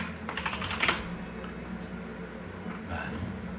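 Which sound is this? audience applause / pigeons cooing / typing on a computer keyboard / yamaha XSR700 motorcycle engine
typing on a computer keyboard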